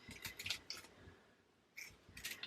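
Scissors cut through a diamond painting sticker sheet in a few quiet, close snips, with crisp clicks of the blades separated by short pauses.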